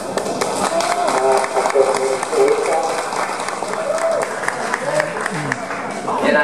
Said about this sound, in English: So big applause for him,